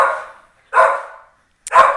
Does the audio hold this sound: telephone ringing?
no